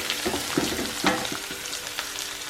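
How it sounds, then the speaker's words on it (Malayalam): Garlic and curry leaves frying in a pan for a Travancore-style roasted coconut chicken curry, with a steady sizzle and several spoon scrapes and clicks as they are stirred, close and fairly quiet, no voices. "വെളുത്തുള്ളിയുടെ പച്ചമണം മാറുന്നയിടം വരെ ഒന്ന് ഇളക്കി കൊടുക്കുക."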